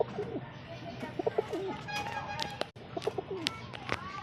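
A white pigeon coos softly at close range in repeated low phrases, with a person talking intermittently over it.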